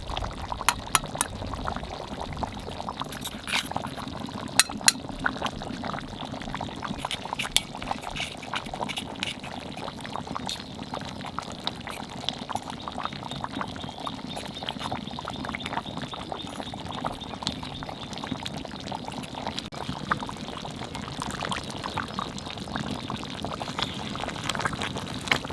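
Garam masala tipped into hot ghee for a mutton curry, giving a soft, steady sizzle and crackle that runs evenly and quietly throughout, with no talking.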